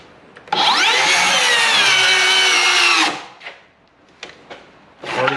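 A Makita circular saw spins up with a loud high whine for about three seconds while cutting, then winds down, followed by a few short knocks and clatters nearby.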